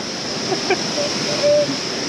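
A waterfall in Nepal gives a steady, broad rushing hiss close by. Faint brief voices and small sounds come through over it.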